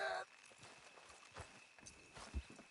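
Working horses plod along with soft clip-clopping hooves, a few faint hoof knocks spread across a quiet background while someone speaks encouragement over them.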